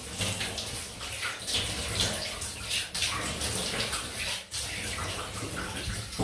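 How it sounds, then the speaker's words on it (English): Running water splashes over a face rinse after a shave, a close, steady rush broken by brief dips and splashes from the hands. "Quick rinse."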